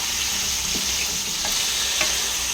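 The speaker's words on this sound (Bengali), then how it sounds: "এখানে দেখো চিংড়ি মাছটা ভাজা হচ্ছে, এরকম মাঝারি চিংড়ি।" Medium prawns frying in a pan, a continuous close hiss and sizzle of hot oil with a few soft stirring scrapes, no talking.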